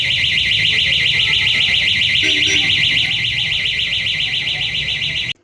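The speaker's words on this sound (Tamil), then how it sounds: "சம்பந்தமே இல்லாமல் மக்களை பீதி அடையிற மாதிரி இந்த அலாரம் அடிக்கிறதால" A loud electronic security alarm at a pawnbroking firm in Vedasandur, Dindigul, rings continuously with a fast, warbling pulse, then cuts off abruptly at the end.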